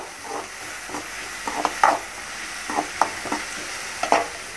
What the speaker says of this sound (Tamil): நம்ம இப்போ கடுகு எல்லாம் பொரிஞ்சதுக்கப்புறம் நம்ம தக்காளி சேர்த்துக்கலாம்